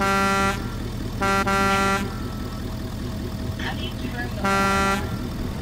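A semi truck horn blares in a video game, three long loud blasts with gaps between, over steady engine drone and faint game noise, with a voice briefly audible between honks.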